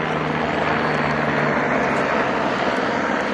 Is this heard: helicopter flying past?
yes